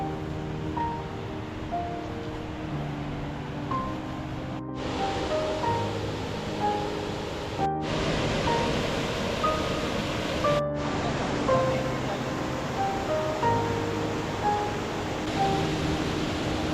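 River water flowing along a rocky stretch near a waterfall in Sri Lanka, a constant broadband rush under faint tonal birdsong, steady and close, with a few brief dropouts.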